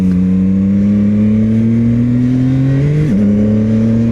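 A CFMOTO 675SS motorcycle engine revving loud and close, its tone rising steadily for about three seconds, then dipping briefly with a gear change before climbing again.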